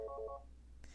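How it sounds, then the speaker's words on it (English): A telephone keypad gives two short dialing tones in quick succession, then a faint click, quiet and close. "You'll have to excuse the phone."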